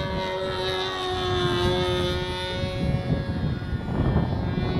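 The engine of a Sig Smith Miniplane model airplane with an 11x4 APC propeller drones overhead, a high, steady buzz, moderately loud with a constant pitch, over a low rushing wind.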